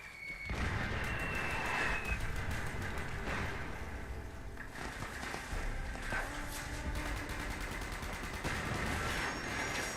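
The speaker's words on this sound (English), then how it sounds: "I better set off some fireworks too" Fireworks going off in the online survival game Fallout 76, a dense, continuous barrage of rapid cracks and pops with crackling bursts layered over a steady roar, loud and unbroken, with no talk.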